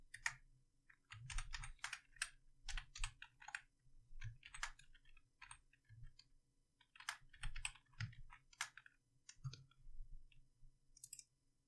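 Steady keyboard typing with irregular bursts of key clicks and soft thumps from the keystrokes, close and alone in a quiet room.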